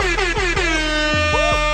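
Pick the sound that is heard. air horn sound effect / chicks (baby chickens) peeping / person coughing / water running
air horn sound effect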